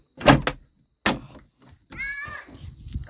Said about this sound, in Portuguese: Deixa eu fechar aqui a porta.